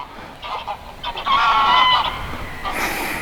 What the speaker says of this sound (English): Bloody geese, sod off.